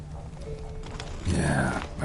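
Roach, a horse in The Witcher 3, sets off into a gallop, with a burst of rapid hoofbeats rising sharply near the end over low background rumble.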